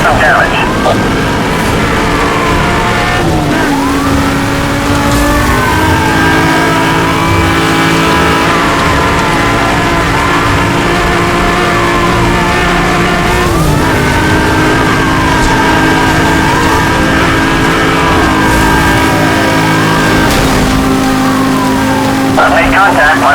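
Sports car engine in the racing game Need for Speed Hot Pursuit Remastered drones steadily, with repeated gear-shift pitch sweeps during a police pursuit toward a construction tunnel, loud and continuous, with game voice radio chatter over it.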